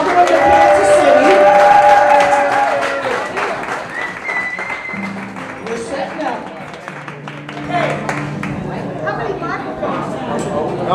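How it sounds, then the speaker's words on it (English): A live concert crowd in Kansas City applauds and cheers to welcome the band, a loud, dense wash of clapping and shouts that tapers off while voices and a few stage sounds carry on underneath. "Let's give them a round of applause and welcome them to Kansas City."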